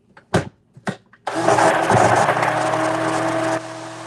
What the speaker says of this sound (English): I just need a new blender because this thing doesn't do it.